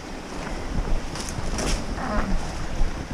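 Water of Hubbard Brook during a crossing on foot, a steady broadband rush and babble close to the microphone with some wind buffeting, moderately quiet and continuous.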